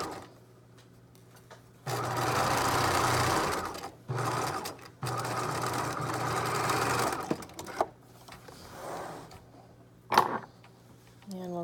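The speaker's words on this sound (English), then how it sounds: "we'll just stitch down the rest of the skirt here" A sewing machine stitches the side seam of a yoke skirt in two long close bursts of fast, steady whirring, separated by short pauses. Quieter clicks and handling noises follow as the stitching stops.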